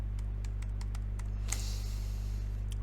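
Quick light keystrokes on a computer keyboard while entering text in Word, an irregular run of soft clicks over a constant low hum, one sharper tap near the middle.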